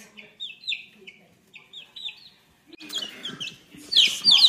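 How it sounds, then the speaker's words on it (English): Baby chicks brought indoors chirp in high, repeated peeps, first sparse and faint, then busier and louder as a voice talks over them. "We've had to resort to bringing in some baby chicks."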